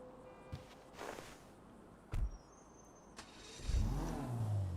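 Toundra Panthere car in GTA 5 Online, its engine idling and revving in short bursts with a few thumps and clicks, one louder rising rev near the end.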